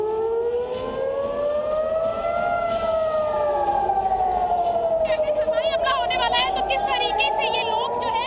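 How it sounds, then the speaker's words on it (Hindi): Air raid siren wailing during a civil defense war drill in India, a long rising and falling tone that carries on steadily, with a voice talking over it and a faint rapid chirping sound toward the end. "अगर जंग का सायरन बजे तो क्या करना है"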